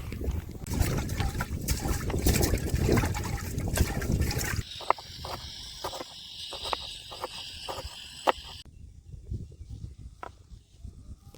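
Rice being rinsed in water before cooking in a village setting, heard as swishing and sloshing liquid with trickles, then quieter drips and splashes against a faint outdoor background.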